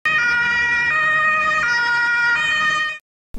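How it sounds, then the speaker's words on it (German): A toy police quad's electronic siren wails loud and close, a steady warbling tone that cycles for about three seconds and then cuts off abruptly. "Hier macht man die Sirene an."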